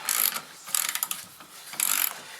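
Spring compressor being cranked tight on a rear strut spring from a 1995-2006 Neon, three bursts of rapid ratcheting clicks close up with short pauses between, no talking.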